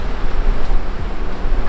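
Blustery wind buffets the microphone on Tybee Island beach in Georgia, with surf rushing behind it in a loud, continuous roar that swells and dips over a couple of seconds.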